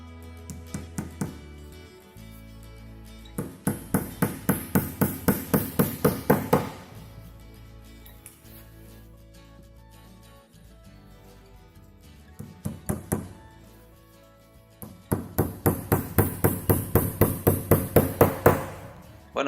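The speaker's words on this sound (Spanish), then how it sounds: "Para ponerlas únicamente utilizaremos el martillo." A hammer taps legs into a wooden bartop arcade kit in quick, rhythmic runs of light knocks, pausing between groups before starting again, fairly close and clear.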